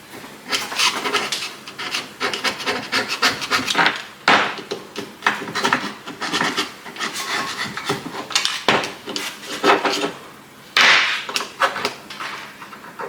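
A flathead screwdriver scrapes crud from a main cap on a bare engine block, producing repeated gritty metal scraping and rasping strokes, close and fairly loud, with short pauses between strokes.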